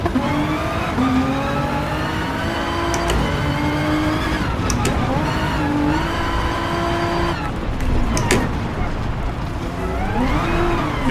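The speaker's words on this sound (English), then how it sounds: "Nissan GTR rally car." A Nissan GT-R rally car in Gran Turismo Sport revs loudly and continuously, its engine note rising and falling through gear shifts, with bursts of tire squeal and skidding as it corners.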